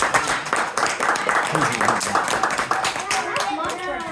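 A presentation audience claps with distinct, sharp hand strikes while people speak and cheer over it, the clapping thinning out and a voice rising toward the end.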